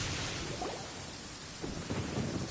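Steady rain and low rumbling thunder from a video game, a continuous wash with two swelling rumbles toward the end, no voices.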